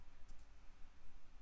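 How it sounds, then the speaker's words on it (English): A single soft double click from a space bar pressed on a computer keyboard, faint and brief over a low, steady background hum. "when I just press the space bar there"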